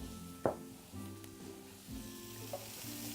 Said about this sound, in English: We're going to saute that a little more.